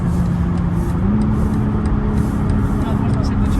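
A BMW M440i being driven hard, its engine a continuous close droning roar with a rising tone partway through, steady and loud from start to end.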